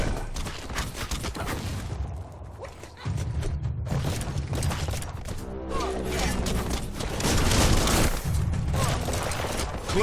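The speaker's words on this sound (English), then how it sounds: "Bullets everywhere." Gunfire in the video game Biomutant: dense, loud bursts of shots and crashing impacts layered over a continuous rumbling game soundtrack, growing heavier toward the end.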